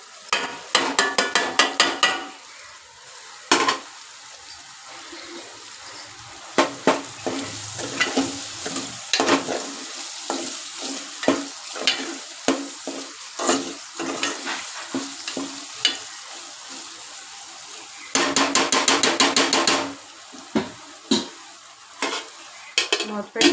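Ginger-garlic paste frying and being stirred in a pan for a snail meat curry, with crackling sizzle under repeated scraping stirs and clinks of a utensil against the pan, alone and close.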